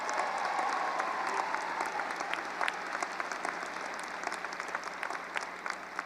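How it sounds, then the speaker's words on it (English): Applause from a graduation ceremony audience at Standley Lake High School for retiring teachers: steady, moderately distant clapping from many hands, fairly soft and even, slowly thinning toward the end. "Please give these retirees a round of applause to recognize them for their service at Standley Lake High School."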